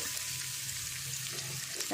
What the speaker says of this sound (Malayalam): ഉള്ളിയൊക്കെ നമ്മൾ ഇതിലിട്ട് മൂപ്പിക്കാം